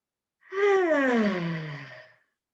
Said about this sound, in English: Another big deep breath in.